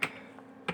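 C code is typed on a computer keyboard, a soft click near the start and a quick cluster of keystrokes near the end, close and fairly quiet.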